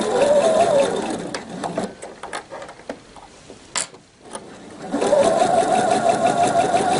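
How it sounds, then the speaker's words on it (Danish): A sewing machine stitching a hem around a girl's summer dress runs in a steady loud whir, pauses briefly in the middle with a few clicks, then starts up and stitches again close by. "Sådan syr jeg hele vejen rundt"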